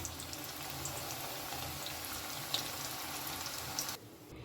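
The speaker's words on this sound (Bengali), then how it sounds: "এইভাবে আমি একে একে সবগুলোই ভেজে নেব" Chicken samosas fry in hot oil with a steady, even sizzle and bubbling that holds throughout, then drops off abruptly near the end.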